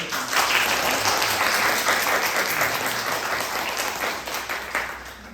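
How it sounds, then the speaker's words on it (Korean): A church congregation at Sunday worship breaks into loud, sustained applause, a dense, even roar of many clapping hands that holds steady for several seconds with little talk over it. "우리 큰 박수로 우리 하나님"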